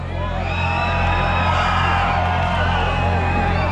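A dense crowd yells, whoops and bellows continuously to win a second-place trophy at a dirt-bike and off-road expo in New England, loud and sustained throughout.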